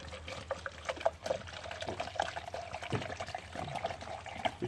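Very hot water poured outdoors on a cold day, a steady splashing pour with a faint ringing tone running through it, fairly close and continuous for several seconds.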